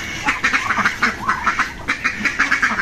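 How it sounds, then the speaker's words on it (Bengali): Khaki Campbell and Chinese ducks quacking close by, a rapid run of repeated nasal quacks overlapping in an uneven rhythm for the whole stretch. "মোট 5টা কেষ্টের হাঁস আছে এখানে। তো হাঁসগুলো বের হোক।"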